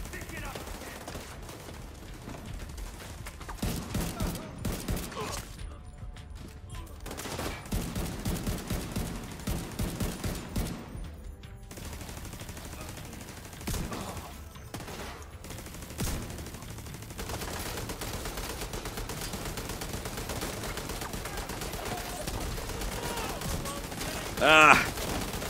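An automated turret firing in The Division 2 video game, with repeated bursts of gunfire coming and going over a long stretch amid background battle noise.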